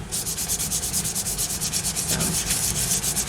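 Rapid, rhythmic back-and-forth scratching of sandpaper on a sanding block over magazine pages, close and steady with no pauses.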